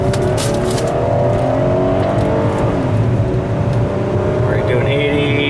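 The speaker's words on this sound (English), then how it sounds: "I'll go for a little test drive here and get her up to a better speed and then see how loud it is." A Buick car accelerates on a test drive, its engine building in a steady, loud drone that rises through the gears, with a faint whine climbing near the end.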